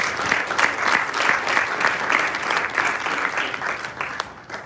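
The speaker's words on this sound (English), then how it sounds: "So I want to give you guys a round of applause one more time" Steady applause from a seated audience at a commemorative forum session, a moderately loud, continuous patter of many hands that holds evenly before tapering slightly at the end.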